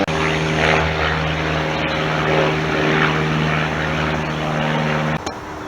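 A biplane drones overhead above an outdoor hut area, its propeller engine a loud, steady throbbing hum that holds throughout before cutting off abruptly near the end, with no talking.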